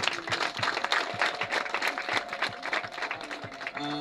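Wedding guests applauding: dense, steady crowd clapping throughout, fairly close, with a brief voice coming in at the very end.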